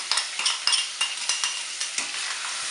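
Celery, minced carrots and onion are stirred into hot turkey drippings, giving a quick run of scraping, clattering strokes against the pan over a soft sizzle.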